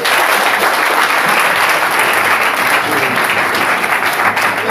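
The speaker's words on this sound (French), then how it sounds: "Applaudissons pour le frère Moïse." Loud, dense applause from a congregation for brother Moïse, a continuous even roar of many hands clapping close by, holding steady throughout with faint crowd murmur underneath.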